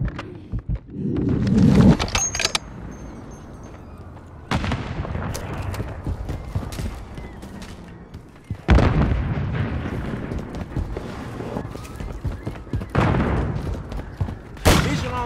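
Gunfire and explosions in Call of Duty Modern Warfare 3 on PlayStation 5: several loud bursts of shots and heavy blasts separated by quieter pauses, the strongest impacts arriving near the start, middle and end.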